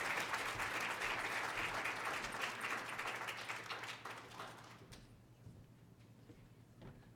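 A round of audience applause for presenters at a Pecha Kucha presentation session, full and steady for about five seconds, then fading abruptly into a few scattered claps.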